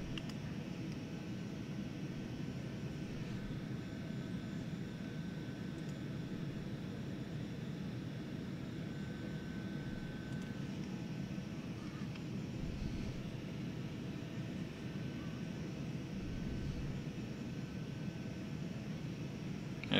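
Twin jet engines of a Citation 550 climbing in the Prepar3D flight simulator, a steady, even cockpit roar and hiss that holds unchanged throughout without a break.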